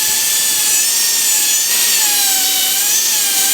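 A high-speed dental bur grinding a tooth during preparation for a metal-ceramic crown, a loud, piercing continuous whine with slight pitch wobbles as pressure changes, close and steady throughout with no talk.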